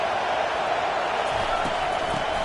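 A stadium crowd roars in a college football video game, Texas Tech against TCU, as one dense, steady wash of noise with no breaks.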